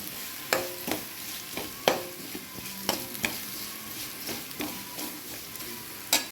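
Vermicelli for shavige bath frying in a pan with grated coconut, a steady sizzle under repeated scraping and clinking strokes of a spatula as it is stirred, close and moderately quiet, with no voices.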